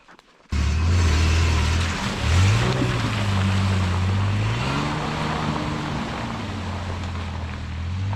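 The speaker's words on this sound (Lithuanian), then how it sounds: "Beliko tik per balas pralėkti." A Ford Explorer drives through puddles on a wet road, with a steady, loud rushing wash of water and engine rumble running throughout after a brief quiet start, the low drone shifting in pitch as the vehicle moves.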